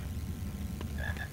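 A frog croaking in the Harry Potter and the Philosopher's Stone video game, a couple of short croaks toward the end over a low, steady game background.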